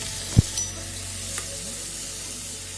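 Chopped onion and tomato fry in a pan for a fish roe curry, giving a steady, even sizzle with one soft clunk of a utensil near the start.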